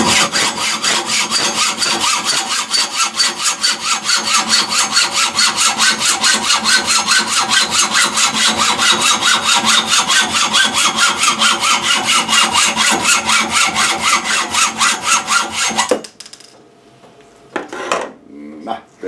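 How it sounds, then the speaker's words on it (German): A hacksaw clamped in a vise rasps back and forth in a fast, even rhythm for a long stretch, then stops, leaving a few faint knocks. "ich nehme eine Eisensäge, spanne sie hier in den Schraubstock"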